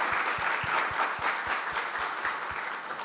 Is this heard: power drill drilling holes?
no